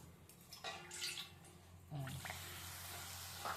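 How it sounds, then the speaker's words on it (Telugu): Water is poured from close by into a pan holding equal cups of grated coconut and sugar for making syrup, a short watery splash and trickle with quieter handling sounds around it. "కొంచెం వాటర్ పోస్తాను."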